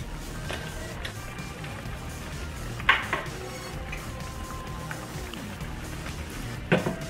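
Glass noodles with dark soy sauce are stirred in a pan of vegetables, tofu, shrimp and pork: two sharp utensil clanks against the pan over a soft, steady cooking hiss.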